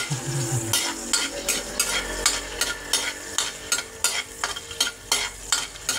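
Garlic and onions frying in a hot pan, a continuous sizzle broken by repeated scraping strokes of a spoon or spatula as they are stirred, close and fairly loud, with no voices.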